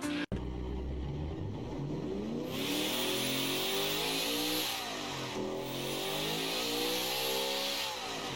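A turbocharged car engine fires up after a brief click, then settles into a loud, steady mechanical idle with a rising and falling whir and blips that swell and ease through the rest of the stretch.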